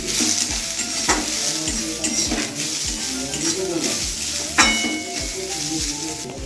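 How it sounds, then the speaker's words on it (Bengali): Beans, carrots and cabbage stir-fried in a pan for momo filling, a steady close sizzle with repeated rhythmic scraping strokes of a spatula and occasional metallic clinks. "দেখো সবজিগুলো খুব বেশি একটা ভাজার দরকার নাই, অল্প একটু ভাজলেই হয়ে যাবে।"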